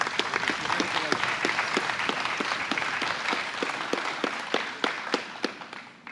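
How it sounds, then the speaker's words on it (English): Audience applause at a congressional law enforcement award ceremony, a steady dense round of clapping running the whole time at moderate volume and thinning slightly toward the end. "Let's give another round of applause."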